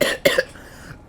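A person hacks out harsh coughs as if bringing up a hairball, a close burst of rough coughs at the start and again at the end, with no talk.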